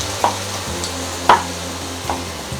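Chipotle softens in chorizo oil in a pan, making a steady frying sizzle broken by a few clacks of stirring or utensil knocks.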